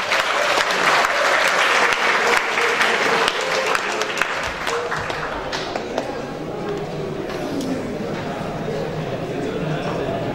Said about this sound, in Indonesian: beri aplaus yang sangat meriah untuk Maharaj